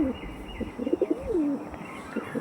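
Andhra Tippler pigeons coo softly nearby, a few low rolling calls in quick succession with a brief pause between bursts.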